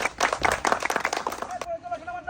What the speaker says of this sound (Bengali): ভাইয়ের জন্য জোরে একটা করে তালি চাই।